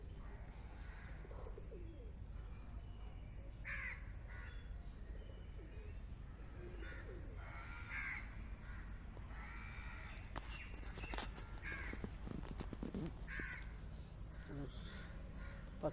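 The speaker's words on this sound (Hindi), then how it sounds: "पक्षियों की आवाज़ सुंदर, नेचुरल, शांत, मनमोहक।" Crows caw and pigeons coo in a blooming rose garden, scattered calls near and far over a faint steady background hum, no one speaking.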